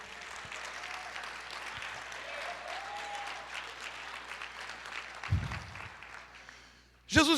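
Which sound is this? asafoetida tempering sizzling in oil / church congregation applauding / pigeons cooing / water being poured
church congregation applauding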